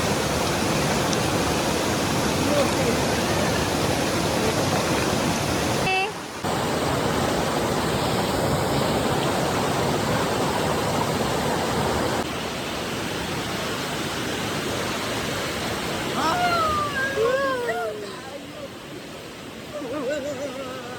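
Sinulom Falls pours in a constant loud rushing roar of falling water, steady and close, with brief chirping bird or voice-like sounds near the end.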